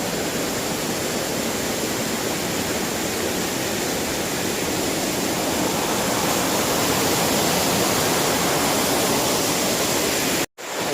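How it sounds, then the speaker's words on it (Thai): A loud waterfall roars at Mae Kampong in the rainy season while rain falls, making a dense, unbroken rush of water throughout that cuts out briefly near the end. "เสียงดังมาก สุดยอดครับ น้ำตก พร้อมด้วยสายฝนนะครับ"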